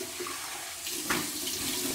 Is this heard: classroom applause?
no